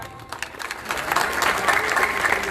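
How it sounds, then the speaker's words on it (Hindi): Loud applause from a crowd at a political nomination rally for an independent candidate, dense clapping building over a couple of seconds and holding steady. "एक बार जोरदार तालियां।"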